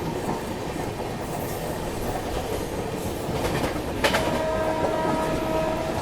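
Marathwada Sampark Kranti Express running, heard from a worn second-class AC coach: a steady loud rumble and rattle of wheels on track throughout, with a brief sharp clank and a sustained tone entering near the end.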